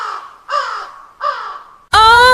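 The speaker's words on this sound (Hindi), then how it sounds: "तभी एक कौवा आकर उसके कंधे पर बैठा।" A crow caws three times in a harsh, evenly spaced series, loud and close, followed by a sudden bright, sustained tonal sting in a horror story scene.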